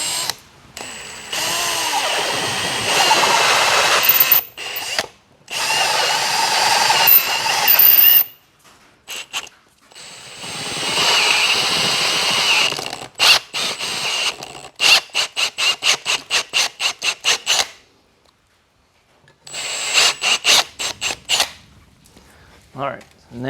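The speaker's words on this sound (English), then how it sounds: "I drilled out those holes a little bit" A power drill bores out the holes of a K series throttle body in repeated close, loud bursts that whine and squeal, then gives a run of short rapid pulses with quiet gaps between them.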